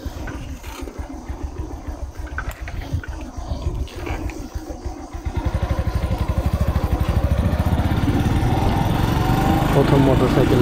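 A motorcycle engine runs while being ridden along a rural road. A rough, muffled rumble early on builds into a louder, steady, pulsing engine drone in the second half.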